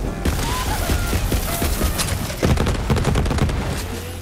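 Rapid bursts of gunfire in the video game Borderlands 3, dense automatic shots crackling steadily and loudly throughout, with no talking.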